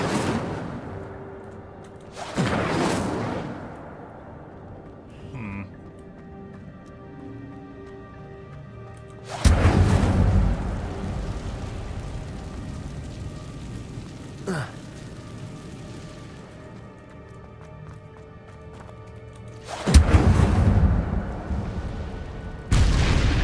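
Fire spell cast in Hogwarts Legacy: three separate loud whooshing bursts, each a sudden broadband roar that lingers and fades, spaced several seconds apart over a low game ambience with faint background tones.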